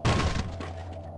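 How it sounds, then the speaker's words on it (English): A wooden crate is smashed open in Half-Life: Blue Shift, a single sharp crack and splintering impact that quickly dies away into a low hum. "And don't forget to break open boxes."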